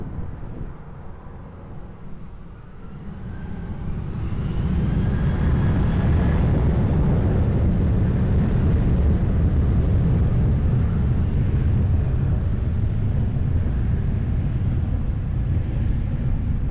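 Jet airliner taking off at Lisbon Airport, a broad roaring rumble that builds over the first few seconds and then holds loud and steady as the engines reach full power, with no voices.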